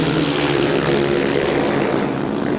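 Sidecar engines at the start line of a 2003 European grasstrack semi-final hold a loud, steady, droning roar. Several machines rev together throughout the short moment, and no voices are heard.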